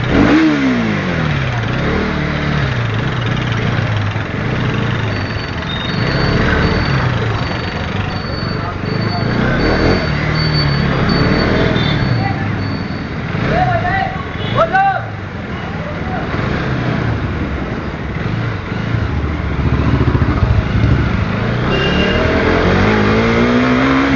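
A KTM Duke 250 Gen 3 motorcycle riding fast, its engine droning loudly and continuously with rising and falling revs, plus wind and traffic noise, and a voice heard over the top.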